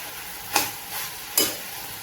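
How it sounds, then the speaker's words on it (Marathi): Okra (bhindi) cooking in a pan without onion, a steady light sizzle with two distinct scraping stirs of the spatula about a second apart, heard close with no voices. "चांगली अशी भेंडी परतून घेतलेली आहे।"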